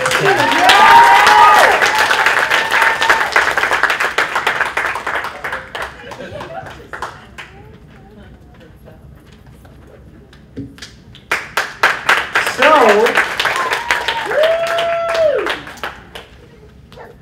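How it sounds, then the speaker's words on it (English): Audience applause for singers at a retreat's final performance: loud clapping with some cheering that fades, a quieter spell with talk, then a second burst of clapping rising again beneath a voice. "we need an obvious another round of applause for all of these incredible singers"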